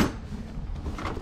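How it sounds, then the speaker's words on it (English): A toolbox drawer slides open with a short close rumble and scrape, then settles, alone without any talking. "Going down a couple more drawers."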